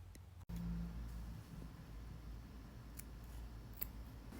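Scissors snip off the yarn tail on a crocheted scrunchie with a sharp click near the start, then quiet handling over a low steady hum.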